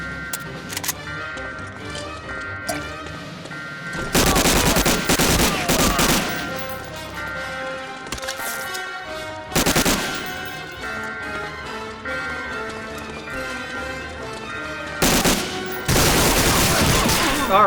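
MG42 machine gun in Medal of Honor fires in several loud sustained bursts, with quieter game sounds and scattered shots between them.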